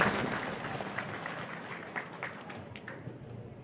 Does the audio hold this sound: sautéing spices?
no